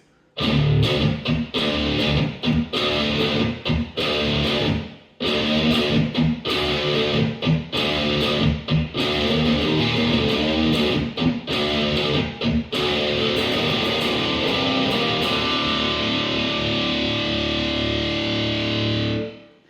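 Heavily distorted electric guitar plays the intro riff of a song, with chorus effect, in loud choppy bursts separated by short gaps, then a final chord left ringing and fading, no voices.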